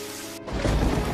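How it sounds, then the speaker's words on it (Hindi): Heavy rain with thunder surges in abruptly, a sudden deep rumble swelling under a dense hiss of downpour for about a second. "हे भगवान, इतनी तेज बारिश।"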